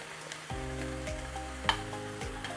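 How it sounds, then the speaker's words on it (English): Ground beef and peppers sizzle and fry in a pan, with a steady crackle and occasional stirring scrapes, plus a brief sharp clink of a utensil partway through, with no speech. "now I'm going to add in the peppers"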